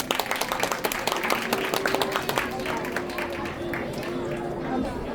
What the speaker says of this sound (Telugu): one more time please give them a round of applause